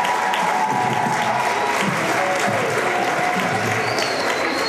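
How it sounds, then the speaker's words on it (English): Sustained, dense applause from a school audience honoring middle school kids at Normandin Middle School, steady and loud throughout with a few faint voices mixed into the crowd. "Let's give another round of applause for these kids"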